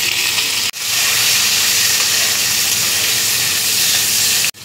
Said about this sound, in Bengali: এবার আমি আলুটা ভেজে নেব।